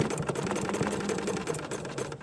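An embroidery sewing machine stitches steadily through a vine motif, a continuous fast mechanical chatter of needle strokes running without pause, close and fairly loud.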